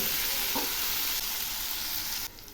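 Spice masala sautés in oil in a pan for a Bengali fish curry, a loud, steady, close sizzle that holds throughout and drops slightly at the very end.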